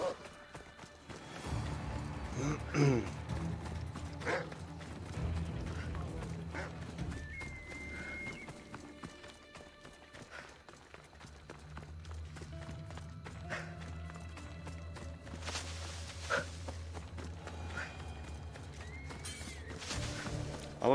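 A horse in the video game Assassin's Creed Odyssey gallops with steady hoofbeats and whinnies several times, the running fading and returning over a low game backdrop.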